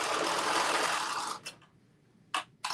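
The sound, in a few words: sewing machine hemming the Carmen top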